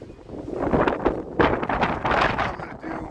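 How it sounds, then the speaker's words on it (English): Wind picking up along Dearborn Street in Chicago on a December afternoon, a gusty rushing roar that swells and buffets the microphone in waves, with no talk over it. "I'm going to head over because the wind's picking up."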